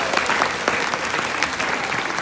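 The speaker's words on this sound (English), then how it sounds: "give them a round of applause" Children and adults at a school morning assembly break into loud, continuous applause, a thick, even burst of many hands clapping close by for a couple of seconds.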